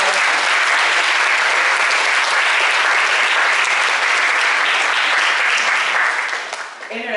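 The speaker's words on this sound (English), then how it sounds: "Please give another round of applause for these students." Sustained, loud applause from a large crowd honours graduating students at a senior awards ceremony at International Studies Charter School, steady throughout before easing slightly near the end.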